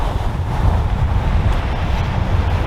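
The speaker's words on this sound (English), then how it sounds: "The wind seems to be calming down a bit." Strong wind gusting across a microphone at the seashore during squid and mackerel fishing, a loud, continuous low roar with steady buffeting and no pauses.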